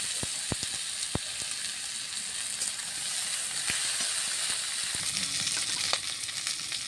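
Pieces of young green jackfruit fry with turmeric in hot oil, giving a constant close sizzle with occasional sharp ticks from stirring and spattering.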